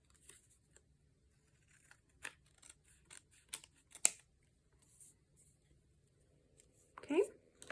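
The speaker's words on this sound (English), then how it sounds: "trim that off with sticky scissors." Quiet, close snips of scissors cutting paper, a few irregular cuts spaced apart, with a brief soft voice near the end.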